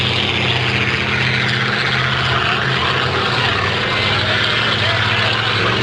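Racing boat engines roar loudly and continuously at half throttle on the water at a memorial boat race in Shelburne, a dense droning buzz with a commentator's voice over it.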